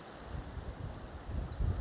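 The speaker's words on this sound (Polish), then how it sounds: "jest tak mocny wiatr teraz" Strong coastal wind gusting and roaring at a low level in Salcombe, England, near castle ruins, with rumbling buffets swelling toward the end and no voices.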